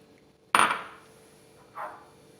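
Flaxseed is added to a cooking pot for a flaxseed kahwa drink: one sharp close clink against the pot, then a softer, brief clatter of seeds a moment later, in a quiet kitchen.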